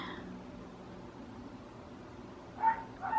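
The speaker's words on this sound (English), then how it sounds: "you guys are just gonna have to listen to the neighbor dog bark" A neighbor's dog barks twice near the end, muffled and at a distance, over a steady low background noise.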